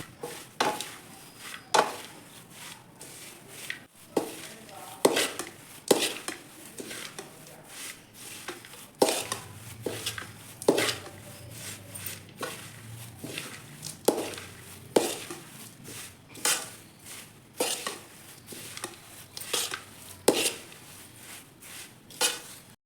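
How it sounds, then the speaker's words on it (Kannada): Flattened rice (avalakki) is stirred with salt and chilli in a bowl, a spoon scraping and tapping in quick, rhythmic strokes, close and fairly loud with no voices. "ಅವಲಕ್ಕಿಗೆ ಉಪ್ಪು ಖಾರ ಚೆನ್ನಾಗಿ ಹೊಂದ್ಕೊಳ್ಳೋ ತನಕ ಮಿಕ್ಸ್ ಮಾಡ್ಕೊತಾ ಇರಬೇಕು."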